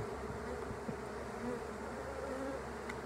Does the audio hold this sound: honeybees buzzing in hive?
yes